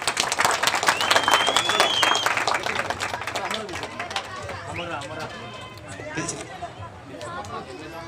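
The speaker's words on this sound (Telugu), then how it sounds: "గట్టిగా చప్పట్లతో స్వాగతం పలుకుతాం" Crowd applause welcoming a senior leader to the stage at a political party gathering, clapping at the start that thins out while people talk and birds chirp in the background.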